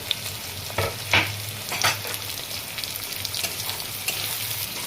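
Chopped onions and green chillies fry in oil while a spoon stirs them, soft sizzling broken by several scraping pushes through the pan, close and moderately quiet.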